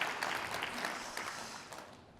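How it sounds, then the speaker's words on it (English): An audience at a conference breakout session on AI-powered business software claps in a soft, distant wash of applause that gradually fades over about two seconds. "You get to applaud for yourself."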